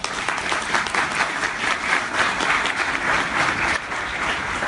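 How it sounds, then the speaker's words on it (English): Steady, dense applause from a campus event audience welcoming a college president, a broad even clapping wash lasting throughout with no talk over it. "Let's give her a round of applause."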